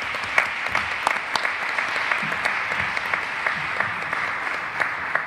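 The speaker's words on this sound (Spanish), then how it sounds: "te aplaudimos" An audience at a cultural ceremony for a classical music magazine applauds illustrator Ernesto Cabrera, with steady, moderately loud clapping from a roomful of people and no voices.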